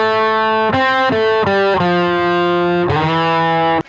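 An electric guitar played through an amplifier with the tone knob fully open rings out bright, distorted notes: a short run of sustained pitches, then a final held note, loud and alone.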